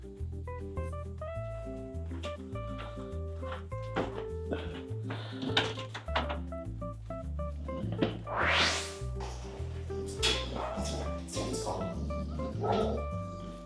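A litter of XL American Bully puppies yips and barks excitedly at feeding time, with short scattered barks and whimpers over steady background music.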